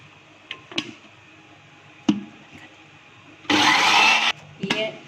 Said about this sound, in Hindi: ये जो हमने प्याज उठा ली थी हम इसमें ग्राइंड करने लगे